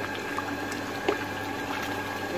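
A pot of ragu stew simmers with a steady, dense bubbling that runs without a break for the whole stretch, close and fairly loud with no voices.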